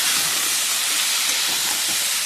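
Spices are stirred in a hot frying pan along with salt and turmeric, giving a loud, steady sizzling hiss that holds evenly throughout, with no talking.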